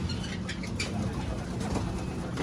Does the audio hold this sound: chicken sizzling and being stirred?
no